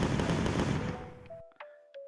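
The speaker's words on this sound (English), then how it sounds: "you can now fire the weapon" Weapon fire in a first-person shooter video game: a dense, rapid burst of shots that cuts off abruptly, followed by a few short, thin electronic tones.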